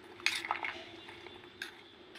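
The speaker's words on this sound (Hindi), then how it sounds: "और इसे अब हम मिक्स कर लेते हैं।" A spoon mixes raj kachori chaat filling seasoned with salt and fresh coriander leaves, giving a few light clinks and scrapes against a bowl, close and fairly quiet, with no talking.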